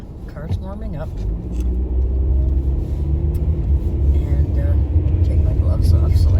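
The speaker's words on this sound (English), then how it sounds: "yeah, car's warming up." A car engine warming up rumbles low and steady inside the cabin while driving over a bumpy road, growing slightly louder, with rattles and a person talking over it at the start.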